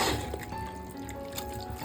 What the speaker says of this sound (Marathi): आता ना ह्याच्यात आपल्याला थोडा शिजायला ना पाणी ऍड करायचं आहे